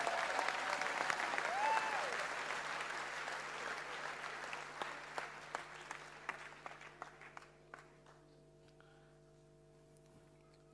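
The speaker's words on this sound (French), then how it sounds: "On acclame Jésus encore pour son œuvre" A church congregation applauds during a French-language service, with dense clapping that thins into scattered individual claps and fades to near silence.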